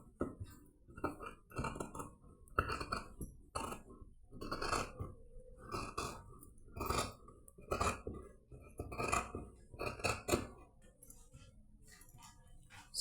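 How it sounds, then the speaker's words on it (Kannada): Scissors cutting the neck of blouse fabric during beginner blouse tailoring, a series of crisp close snips and metallic clicks in irregular rhythm, faint and alone. "ಸೊ ಈಗ ನೆಕ್ ಕಟ್ ಮಾಡ್ತೀನಿ."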